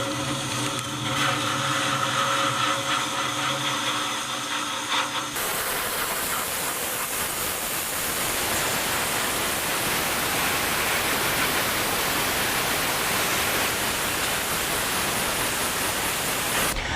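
Soda blasting from a dual soda and sand pressure blaster, a loud continuous broadband hiss of abrasive media roaring steadily at close range, preceded by a few seconds of humming machine noise, no talking.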